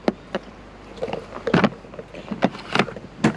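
A motorhome toilet cassette in an Elddis Autoquest 130 is released with a small green lever and slid out, giving a series of short clunks, scrapes and plastic knocks in irregular bursts, close and fairly loud, with no talking.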